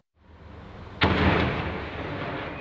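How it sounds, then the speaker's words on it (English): Rocket fire in Kabul, Afghanistan: after a low rumbling hush, one sudden loud blast booms out and leaves a long, heavy roar that slowly fades. "The deafening sound of rocket fire pierced the early morning hours in Afghanistan's capital."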